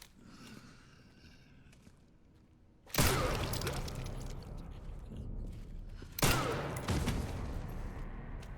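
Gunfire in the survival horror game Resident Evil Requiem: after a quiet stretch, two loud sharp shot onsets each open a dense, sustained barrage of firing and noisy reverberation, heard alone without speech.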